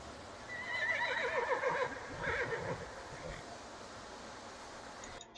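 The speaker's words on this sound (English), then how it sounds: "See this horse?" A horse neighs loudly and close by outdoors, a long shaky whinny with a second call after it, over steady wind and rustling noise.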